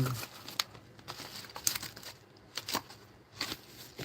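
Mail package of sports cards being sliced open at the corner: close, crinkly plastic and paper rustling with sharp tearing bursts spread across a few seconds, no talking.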